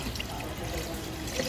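Water poured into a pot of chicken tinola cooking Visayan style, a brief steady splashing trickle heard up close for under two seconds.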